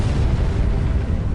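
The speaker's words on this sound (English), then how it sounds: "the hospital explosion in The Dark Knight" A full-scale building explosion staged for the hospital scene of The Dark Knight, a deep sustained rumbling roar filling the whole clip, loud and dense with low-end boom and debris-like crackle, no voices.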